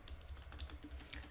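A computer keyboard is typed on in a quick, soft run of close, faint clicks, with no talking.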